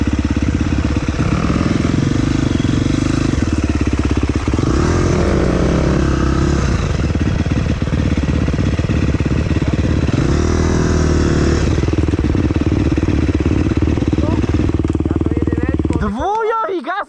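A motocross bike on a muddy enduro trail roars loudly and close, engine droning and surging with revs and shifts for most of the run, while a rider shouts over it; the engine cuts out abruptly near the end.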